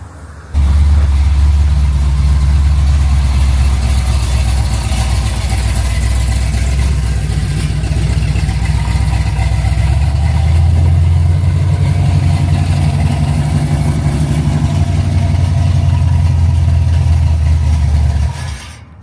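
A car engine idles steadily at a body shop while cars are shuffled around, a low continuous rumble close by with a slight rise in pitch partway through, no talking.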